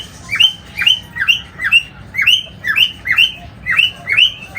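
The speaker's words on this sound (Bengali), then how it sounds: "আমাদের ককাটেল পাখি দেখেন শীষ দিতেছে" A cockatiel calls close and loud, repeating a sharp rising chirp about ten times at a steady, rhythmic pace.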